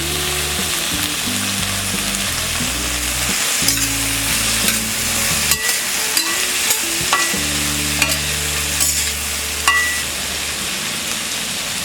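Cluster beans fry with salt and turmeric in a pan, giving a loud, steady sizzle close by. Spoon scrapes and clinks from stirring recur throughout, and no one talks.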